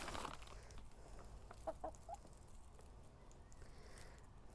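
Backyard hens potter about a coop flower bed, giving off a few soft, low clucks in a short burst near the middle, faint and somewhat distant against quiet outdoor ambience.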